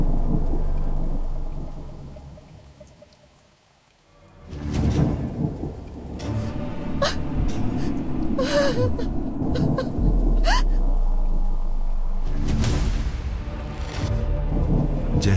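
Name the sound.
thunderstorm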